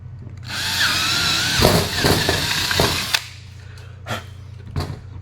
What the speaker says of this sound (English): Now we're going to drill the 1/4 inch holes here.